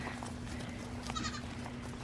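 Goats, adult mothers with young kids nearby, bleat faintly in a noisy outdoor setting, with a short bleat rising briefly above steady background hum.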